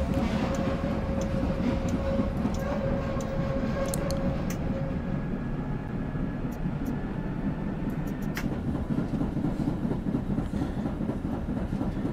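Tram running in the SIMT simulator game, approaching a signal-controlled crossing: a steady, loud rumbling drive with motor whine and rail noise throughout, a few faint clicks and tones over it, no talk.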